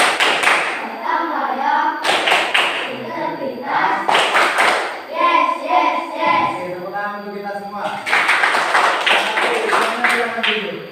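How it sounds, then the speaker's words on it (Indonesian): A group performs the PPK clap routine, an Indonesian rhythmic clapping chant: sharp bursts of hand claps alternate with loud, close chanted voices in a steady call-and-response pattern. "Tepuk PPK"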